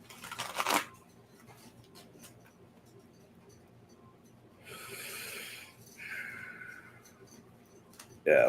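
Quiet riffling and brisk shuffles of a card deck near the listener, in a few separate bursts with soft pauses between.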